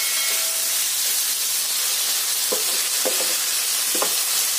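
Masala puttu steams in a covered pot with a loud, continuous close hiss, broken by a few brief rattling knocks near the end.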